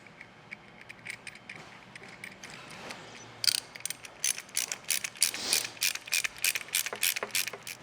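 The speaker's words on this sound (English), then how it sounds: "we'll go ahead and tighten those up with an 11 millimeter" An 11 mm ratchet clicking as fog light bracket bolts for a Toyota Tacoma are tightened, quick bursts of close, crisp pawl ticks in uneven runs, growing more frequent toward the end.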